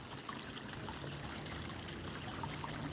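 Water trickling down at a creek, a faint, steady outdoor babble with small splashes and no voices.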